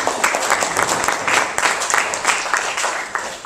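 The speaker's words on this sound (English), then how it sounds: "Let's get a hand of applause for the guy getting his tea." Steady, fairly close audience applause at a comedy show, a dense wash of many hands clapping for several seconds without a break, with faint crowd murmur underneath.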